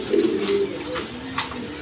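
Pigeons cooing nearby, a low throaty coo rising and falling a few times over a quiet background, with no talking.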